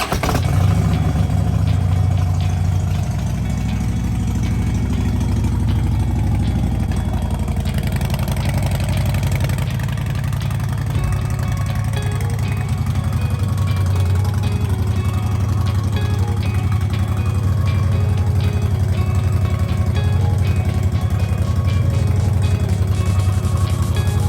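A 2010 Harley-Davidson Street Glide motorcycle idles loud and close, a steady low rumble with a slight shift in tone partway through, going on without pause and with no talk over it.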